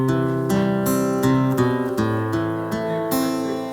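Guitar played through a digital reverb effect, a run of plucked notes and chords ringing on with a spacious ambient tail, steady and fairly loud with no talking.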